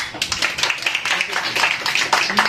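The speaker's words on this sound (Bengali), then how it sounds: "হাততালি" An audience claps through a long round of applause, dense crackling hand claps filling the space steadily from start to finish, with voices mixed faintly underneath.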